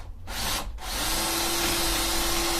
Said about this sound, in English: I'm just going to use my trusty Bosch, drill some pilot holes in there.